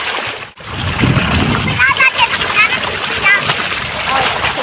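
Cold water from a village tubewell splashes and sloshes continuously as someone bathes, with voices talking over the steady pouring.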